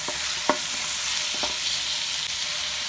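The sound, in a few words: chicken frying and being stirred with salt and turmeric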